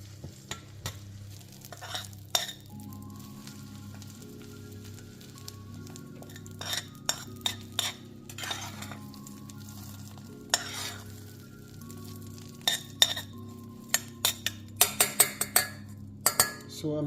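Carrot and licorice root stirred in warm oil over low heat, a soft steady sizzle with repeated scraping clinks of a utensil against the pan, growing busier toward the end.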